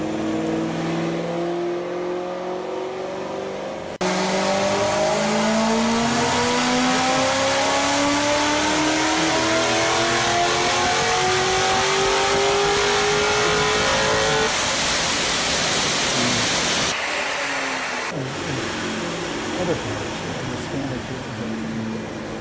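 A Corvette making near 700 horsepower revs hard on a dyno, its engine note climbing through several rising sweeps. The sound is loud and close, with a sharp cut and some shifts in level late in the run.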